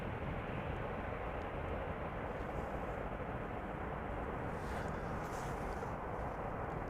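An Airbus A380 taking off at Amsterdam Schiphol Airport, its jet engines making a loud, steady broadband roar that holds without a break throughout.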